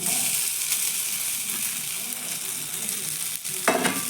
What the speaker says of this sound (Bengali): এবার দিয়ে দিচ্ছি আমি গ্রেট করে রাখা আলু